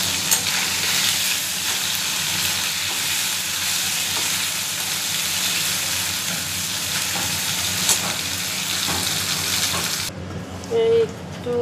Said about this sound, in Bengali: মাছটা ভেজে নিচ্ছি, একদম জ্যান্ত মাছগুলো।